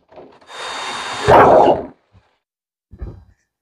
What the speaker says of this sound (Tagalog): So, meron akong drill dito. Bubutasan ko isa-isa.